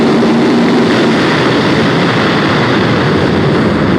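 Yamaha YZF R1 crossplane engine accelerating hard down the pit straight, a loud, continuous, dense roar close by that holds steady throughout with no gaps.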